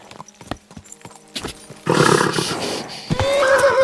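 In the video game Kingdom Come: Deliverance II, hooves clip-clop unevenly at first, then a horse lets out a loud, drawn-out neigh and a second shrill whinny, close by and without talk.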